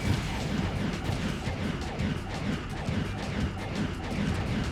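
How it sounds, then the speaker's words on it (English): Explosions and gunfire-like bursts rumble through a Sonic 06 game scene, a dense, continuous low booming wash with scattered crashes and sharp hits layered over steady game noise. "I'm just hearing hella explosions."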